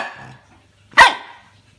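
A small dog gives one sharp, loud bark up close, following a brief stretch of quieter background sound.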